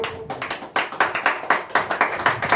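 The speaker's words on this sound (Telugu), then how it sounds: "చప్పట్లు కొట్టండి" A crowd at a prayer gathering claps hands in a steady, rhythmic beat, about two claps per second, loud and close with no voices over it.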